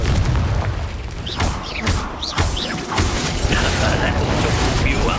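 Explosive spell blasts in Hogwarts Legacy combat, a series of booming impacts and crashes under continuous game noise and voices.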